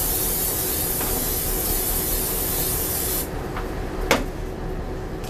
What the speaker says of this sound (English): Okay, you gotta spray it down good.